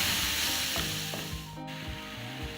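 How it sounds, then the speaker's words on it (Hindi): Onions fry in a pan for a tuna curry, a soft, steady sizzle close by with a few light scrapes of stirring and no talk. "अब हम प्याज को हल्का ब्राउन कर लेंगे।"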